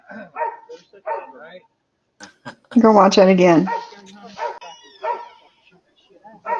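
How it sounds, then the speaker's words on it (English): Dogs barking in a short, loud burst in the middle, set among stretches of someone talking. "The dogs are barking."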